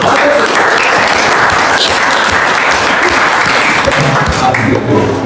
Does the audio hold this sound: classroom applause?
yes